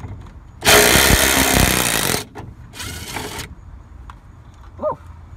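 Cordless impact driver loosening the front seatbelt retractor bolt on a 2003-2007 Honda Accord, two loud close bursts of rattling hammering, a long one followed by a shorter one, with no talking.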